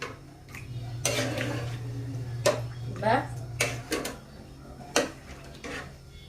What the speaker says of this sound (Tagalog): Tapos haluin. Haluin natin.